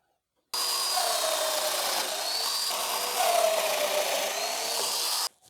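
A domino joiner machine cuts into wood, running steadily for about five seconds at close range with a loud, slightly rasping whine that shifts pitch as it bites, then stops abruptly.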